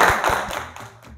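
Classroom students clap in a quick, even rhythm, several sharp claps close by that fade toward the end.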